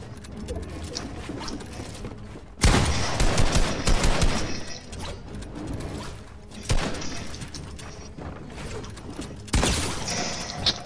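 Video game gunfire in a squads match, coming in three loud bursts of rapid shots separated by quieter mechanical clatter and background game noise.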